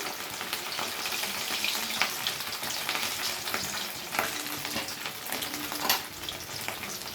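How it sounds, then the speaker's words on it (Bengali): Fish pieces fry in hot oil in a kadai without turmeric, a continuous close crackling sizzle with occasional pops and stirring scrapes, no voices. "বাকি মাছগুলো একইভাবে ভেজে নেব"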